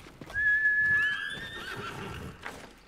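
A single horse whinny in the video game Ghost of Tsushima rises and trails off, loud and close, followed by a brief scuffing sound near the end.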